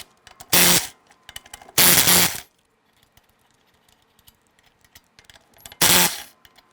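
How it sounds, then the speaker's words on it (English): Lug nuts being removed from a 2001-2007 Ford Escape wheel with a 19mm socket: three loud, close bursts of a power tool spinning, with quiet clicks and handling noises between them. "Using a 19mm socket, we want to go ahead and remove the lug nuts"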